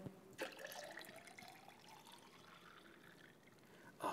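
Water and wine are poured gently into a glass in layers for a density demonstration, giving a soft, thin trickle. It opens and closes with a brief clink, is fairly quiet, and has no speech.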